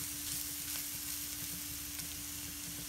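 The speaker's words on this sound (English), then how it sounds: "you can start adding the rice that we have here and mix it thoroughly and keep the heat in low" Rice being stirred with coconut in a pan over low heat gives a soft, steady sizzle with faint scraping, close and quiet, with a low hum underneath and no talking.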